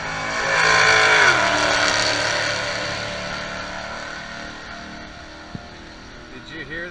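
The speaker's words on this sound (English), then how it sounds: "Did you hear that muffler, folks? And he's mighty proud of that sound." A race car's engine roars through a loud muffler as it passes, strong at first and then fading into the distance, with a commentator talking over it.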